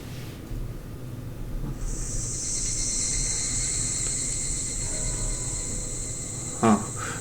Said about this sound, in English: the cries of cicadas were beginning to cool down the scorched earth